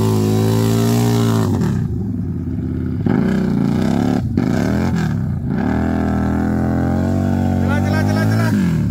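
A Harley-Davidson 750 motorcycle being ridden off-road revs loudly and unevenly, pitch rising and falling through repeated throttle bursts, with voices under the engine noise.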